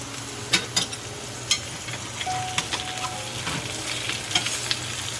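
Steady sizzling of potato, bitter gourd and pumpkin frying in a pan, broken by a few sharp clanks and scraping stirs, with no talking.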